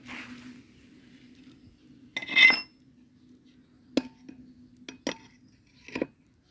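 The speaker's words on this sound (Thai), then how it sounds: "ผมค่อยค่อยค่อยเคาะเอาครับอย่าเคาะแรงครับ" A bearing is gently tapped into a Honda Wave 125i lower engine case, giving a handful of light, crisp metallic taps spaced a second or so apart. A louder clink comes earlier, with a quiet steady hum beneath.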